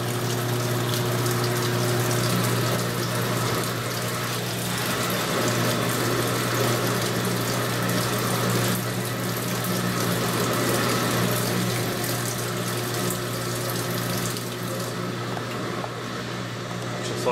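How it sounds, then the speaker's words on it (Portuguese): Inside a Speed Queen TR7 top-load washing machine, water sprays steadily into the fabric softener compartment with a continuous hissing gush and a low pump hum, close and unbroken throughout. "Ela tá jogando, ó, o spray de água, né,"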